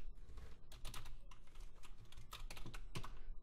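Close, quick typing of code on a computer keyboard in an irregular run of crisp key clicks, with no talking over it.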